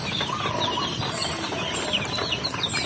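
Several native chickens on a farm cluck and chirp in short, scattered calls amid a busy background murmur, fairly close.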